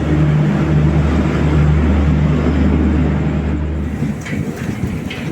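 The Rajdhani Express pulls out of Gaya station at night, heard from inside the coach as a loud, steady low rumble and hum that thins slightly toward the end, with faint clanks.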